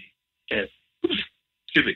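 A single sharp sneeze bursts out amid short spoken phrases from a nearby speaker, loud and close, set in a quiet indoor interview setting.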